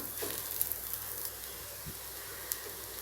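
Adai dosa fries with oil on a pan, a faint, steady hissing sizzle with a few tiny pops and crackles scattered through it, close but quiet.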